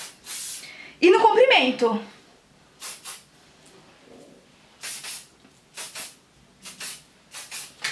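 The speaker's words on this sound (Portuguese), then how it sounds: "Aí você borrifa com uma distância da cabeça." Hair fixing spray hisses from an aerosol can in sharp short bursts, one longer blast followed by several quick puffs, close by, with someone speaking Portuguese between them.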